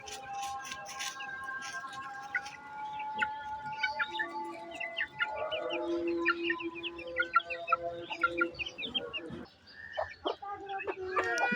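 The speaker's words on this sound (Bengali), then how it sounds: "এই যে আরেকটা পাহাড়ি দেশি মুরগি।" Hill desi chickens kept at home cluck and call close by in a lively, irregular series, with a few higher bird chirps mixed in and brief low background sounds, no clear speech.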